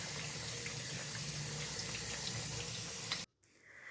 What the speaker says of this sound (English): Pour the adda back into the colander and wash it thoroughly in cold water.